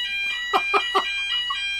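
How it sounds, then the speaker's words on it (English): Home fire alarm going off indoors, a piercing electronic tone pulsing in three quick beeps over a steady high whine, loud and close, with no talk over it. "That is my fire alarm."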